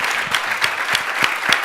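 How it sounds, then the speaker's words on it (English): Audience clapping for panelists at a symposium business roundtable session, a steady round of applause from a modest crowd with individual claps distinct. "let's give our panelists another round of applause"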